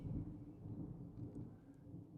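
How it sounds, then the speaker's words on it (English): A thunderstorm outside, with a low, muffled, continuous rumble of thunder and rain heard faintly from indoors. "we're having a bit of a thunderstorm right now"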